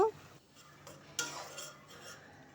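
Whole garam masala of cinnamon, green and black cardamom, black pepper and cloves fries in a pan while a utensil stirs, producing faint scraping and a few light clinks over a quiet background.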